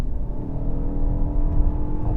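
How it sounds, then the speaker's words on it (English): A Lincoln Corsair Grand Touring PHEV plug-in hybrid's combustion engine pulling hard at full throttle from about 50 km/h, a loud, continuous engine drone that swells slightly as it climbs. "50 kilometers an hour, and we're just going to floor it."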